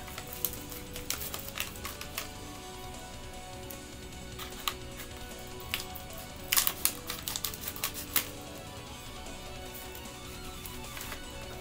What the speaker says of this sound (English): So let's get a pair of scissors and open up this bag.